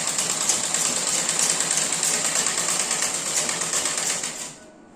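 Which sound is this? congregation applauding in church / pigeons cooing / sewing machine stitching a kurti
sewing machine stitching a kurti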